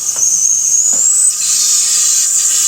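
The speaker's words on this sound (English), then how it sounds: "You can hear some air coming out." Air hisses steadily out of an opened brake bleeder valve on a Ford Escape during a brake fluid flush, a loud, close, continuous high-pitched rush with a couple of faint clicks.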